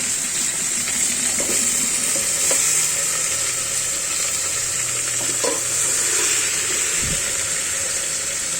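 Chicken pieces frying steadily in hot oil in a pan, a constant loud sizzle with a few clinks and a thump near the end as a lid goes on.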